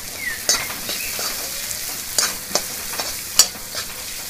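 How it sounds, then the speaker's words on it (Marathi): Soaked, washed moong dal being stirred into a pan of frying onion greens: a soft sizzle under several sharp spatula scrapes and taps against the pan, close by and without speech. "भिजवून घेतलेली धुवून घेतलेली मूग डाळ घालायची। थोडी मिक्स करायची।"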